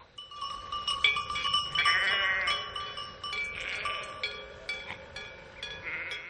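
Caussenarde sheep grazing dry grassland on a limestone causse plateau bleat repeatedly, several voices calling at intervals, fairly close and clear over a quiet background.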